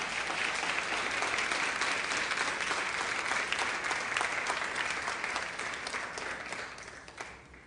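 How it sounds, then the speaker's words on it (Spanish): A church congregation claps together in sustained, lively applause, a dense and even roar of many hands that gradually fades toward the end. "Denle un aplauso al Señor,"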